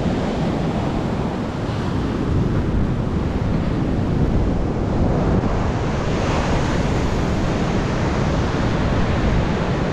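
Strong wind and breaking surf at Valiyaparamba beach form a loud, continuous roar that stays steady and close throughout, with no voices.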